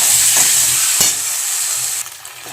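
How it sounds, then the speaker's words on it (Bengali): Spice paste stir-fried in a pan for a pointed gourd and shrimp curry gives a steady, close sizzle, with a few brief stirring scrapes breaking through the continuous frying hiss. "দিয়ে কিন্তু আমি ভালো করে কষাবো"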